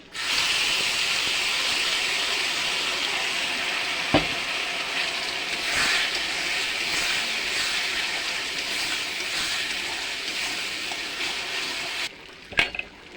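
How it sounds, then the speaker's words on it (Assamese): Ground spice paste with whole chillies frying in a pan for an Assamese-style fish curry gives a loud, steady sizzle that runs unbroken, with a couple of sharp clicks near the end. "এতিয়া মই পিচি লোৱা মছলাখিনি দি দিম।"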